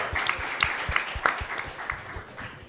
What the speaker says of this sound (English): So one more round of applause for them, yeah.